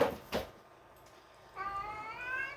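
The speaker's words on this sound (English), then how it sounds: "That's my cat, Harry." A cat gives a drawn-out, fairly quiet meow after a couple of soft knocks, close by in a quiet room.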